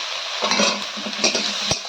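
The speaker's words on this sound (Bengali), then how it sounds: "আদা রসুন টমেটো পেঁয়াজের সঙ্গে খুব ভালো করে কষিয়ে নেব" Ginger garlic paste stir-fried with tomato and onion in a pan gives a steady close sizzle, broken by several quick spatula scrapes and stirs, with no talking.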